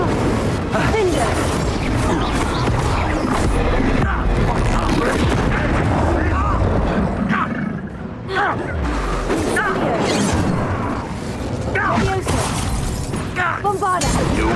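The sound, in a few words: spell blasts like Bombarda and Incendio in Hogwarts Legacy video game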